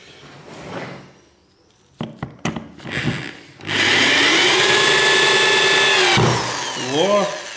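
A power drill drives a long screw into a dense wooden floorboard, starting with a few short bursts. A loud, sustained whir follows for several seconds and then stops. The drill is close and no one speaks during it.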